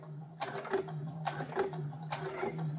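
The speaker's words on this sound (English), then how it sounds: "let the machine do its stitch." A sewing machine fitted with a twin needle stitches slowly along the hem of a t-shirt: three quiet bursts of soft mechanical whirring and ticking over a low steady motor hum, close by, with no talk.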